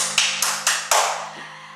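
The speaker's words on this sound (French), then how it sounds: "vous pouvez vous applaudir" A few people clap at the close of an elastic-band strength workout, four sharp separate claps spaced unevenly and fading out, with a steady low hum underneath.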